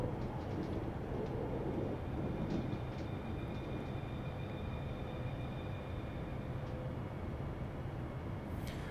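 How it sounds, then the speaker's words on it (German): Continuous rolling noise of an ÖBB Talent 4024 electric multiple unit in the Train Simulator 2015 game, a steady low rumble with faint rattling and a thin whine, unbroken throughout. "Das Rollgeräusch gefällt mir am meisten bei diesem Zug. Hört man schön da Türrappeln und so."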